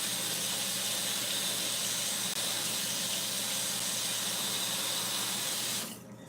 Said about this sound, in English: So I'm gonna rinse these off in hot water.